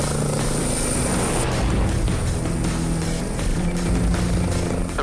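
Air ambulance helicopter lifting off and hover taxiing, a steady loud rotor and turbine roar with a constant high whine running throughout, no voices.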